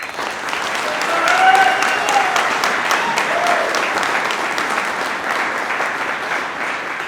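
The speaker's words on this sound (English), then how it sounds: "So how about a round of applause?" Audience applause at an expo with hundreds of vendors, sustained dense clapping from a large crowd that swells and holds steady for several seconds, with faint cheers mixed in.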